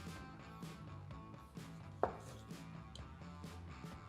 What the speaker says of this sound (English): Cut this one into wedges.